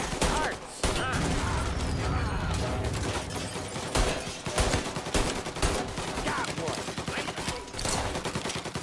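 Dense bursts of gunfire in a Mafia Definitive Edition shootout, with rapid shots and volleys hammering almost continuously at loud, close range.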